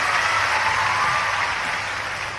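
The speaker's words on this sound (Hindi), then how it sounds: "जोरदार ताली बजाओ" Crowd at an outdoor political rally in Badwara, Madhya Pradesh, claps in a steady, moderately loud wash of applause that fades slightly toward the end.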